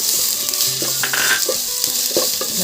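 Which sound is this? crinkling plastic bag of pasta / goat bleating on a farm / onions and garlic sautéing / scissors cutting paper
onions and garlic sautéing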